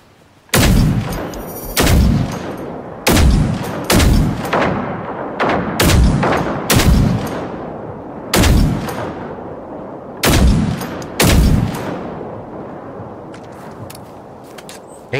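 Rockets fire and explode in Generation Zero. About ten loud, booming blasts come in an uneven series, each with a short rumbling tail, and no talk over them.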